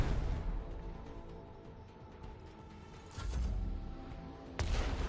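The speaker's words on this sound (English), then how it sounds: "Let the macro cannons sing their twisted song." Macro cannons fire in Warhammer 40,000: Rogue Trader, a heavy rolling fusillade of booming shots with loud bursts swelling midway and again near the end over dense rumbling battle noise.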